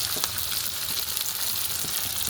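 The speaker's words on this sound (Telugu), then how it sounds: "ఇప్పుడు మామిడికాయ ముక్కలు వేసేద్దాం." Raw mango pieces go into a hot pan for a coconut and raw mango pounded chutney, giving a steady, close, dense sizzle with a few small crackles. No talk.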